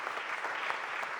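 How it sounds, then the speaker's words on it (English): Steady applause from a crowd at a mayor's press conference, a dense wash of many hands clapping throughout. "give Managing Director Teal a huge round of applause"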